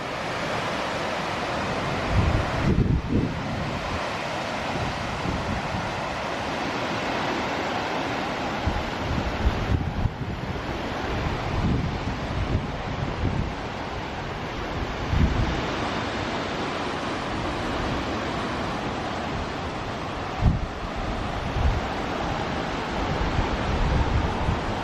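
Strong wind roars across the microphone on top of Solsbury Hill as dense, continuous buffeting with gusts that swell and ease. No one speaks over it.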